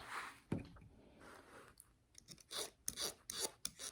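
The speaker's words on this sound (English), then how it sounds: "I'm going to tip my knife the other way and slice it in the other direction." Knife slicing in crisscross cuts, turned to cut the other way, giving a series of short close rasping, crunchy strokes in an irregular rhythm with no talk.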